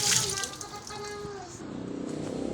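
Water is poured into a hose to check it for leaks: a close, steady gurgling splash of running water, with a person talking over it.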